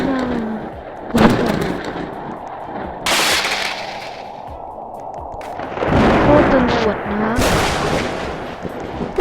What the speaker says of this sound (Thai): ระเบิดมาเลยนะ